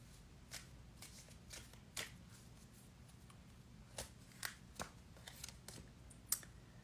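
Tarot cards are shuffled in quick riffling bursts, crisp, close and fairly quiet, with short pauses between the flicks.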